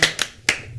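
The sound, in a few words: people clapping hands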